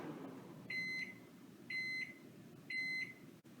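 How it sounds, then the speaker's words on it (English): A microwave oven heating pasta gives three evenly spaced, sustained electronic beeps over a faint background hum. "we're going to stir this again and microwave for 1 more minute"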